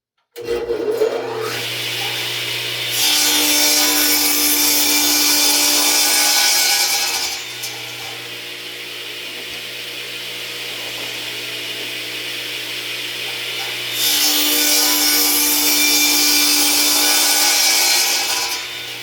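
A power saw cuts bevels into wood pieces for a toy pickup truck, with two loud sustained cutting passes separated by a quieter idling whine, steady and close with no talking.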